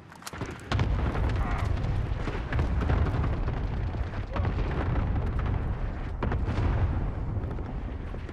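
A cluster strike in Call of Duty: Modern Warfare hardcore mosh pit rains down a rumbling series of explosions, starting with a sharp boom and rolling into a continuous heavy roar with further blasts, loud and near.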